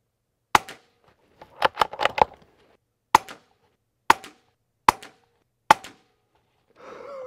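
A .22 firearm fitted with a KGMade Swarm 22 full titanium modular silencer fires a series of sharp, suppressed cracks, irregularly spaced with a quick cluster near the start, each decaying quickly into quiet.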